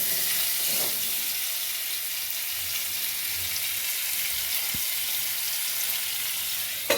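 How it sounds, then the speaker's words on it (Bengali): Salted potatoes sizzle steadily in a pan while being fried to a light reddish colour, a soft continuous hiss with an occasional stirring knock. "হালকা লাল লাল করে ভেজে নেব।"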